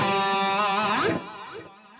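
An electric guitar plays a sustained lead note with bends, run through reverb and delay effects for an epic solo tone; the note rings alone, then fades into an echoing, reverberant tail.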